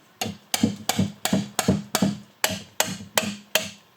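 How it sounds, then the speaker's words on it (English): A 22mm wrench works a backup light switch out of an NV3550 transmission, giving about ten sharp, evenly spaced metallic clicks, close and fairly loud, with no talking. "22mm wrench will do the trick."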